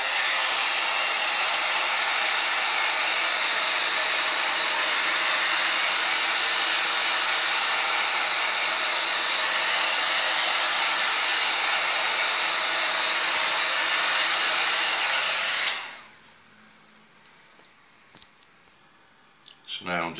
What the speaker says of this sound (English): I've got to heat gun it to get the bubbles out